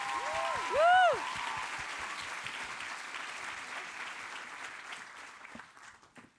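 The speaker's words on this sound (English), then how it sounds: "So let's give Vernee Green a big round of applause." A crowd applauds steadily at a New York community event, with a whooping cheer near the start, then the clapping thins and fades toward the end.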